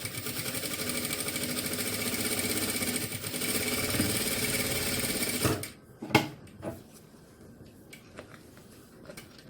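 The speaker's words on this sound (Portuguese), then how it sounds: "Agora, eu faço uma costura na guia que eu fiz." A sewing machine runs steadily, stitching a seam along a marked guide on a small fabric car trash bag, then stops abruptly and gives way to a few sharp clicks and taps nearby.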